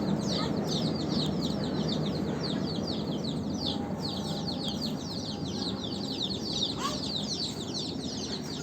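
Many chickens chatter and cluck in a rapid, overlapping chorus inside a village chicken house, steady and moderately loud against a constant low background noise, with no voices.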